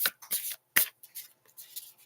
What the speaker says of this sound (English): Hopefully you can hear me shuffling.